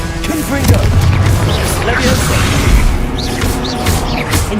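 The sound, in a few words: spell blasts cast in Hogwarts Legacy video game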